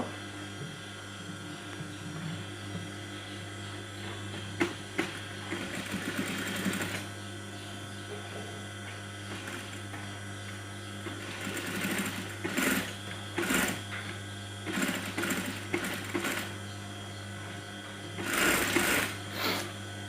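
A sewing machine runs steadily as it topstitches along the neckline of a kameez ban collar, its close mechanical hum rising in several louder bursts across the stretch of stitching.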